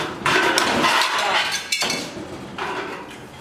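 A sheet metal downspout has its lip knocked over by hand: a few close, sharp metallic bangs and clanks with ringing tails, loud, spaced irregularly, no voices.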